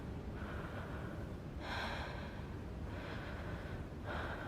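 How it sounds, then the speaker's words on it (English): Heavy, strained breathing of a climbing character in the video game Cairn, with several loud ragged gasping breaths over a low background rumble. "Listen to her breathing."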